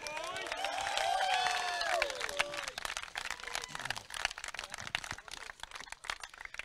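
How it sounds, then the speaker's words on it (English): Crowd at a gridiron football championship, the Great Southern Bowl between the Hogs and Spartans, breaks into a loud swell of cheering and applause that fades into scattered clapping, with voices mixed in. "I think that deserves a round of applause."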